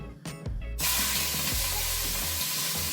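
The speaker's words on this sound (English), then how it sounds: "Time to add the beef into the oil." Beef dropped into hot oil, bursting into a loud, sustained sizzle and spatter that starts abruptly after a brief clatter and continues close and strong.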